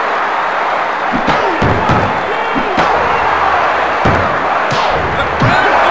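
A wrestling video game crowd roars continuously in WWF War Zone on the N64, with thuds and slams of in-ring impacts punctuating the dense cheering while a commentator's voice runs over it.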